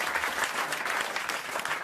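A studio audience on a French radio comedy panel show claps steadily, a dense, fairly loud patter of hands with no talk over it.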